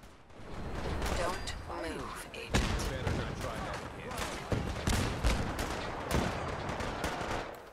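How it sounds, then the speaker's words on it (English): Fallout 4 gameplay with a rifle firing explosive rounds: repeated loud blasts and bursts of gunfire, layered with dense game effects throughout. "It's a rifle that fires explosive rounds."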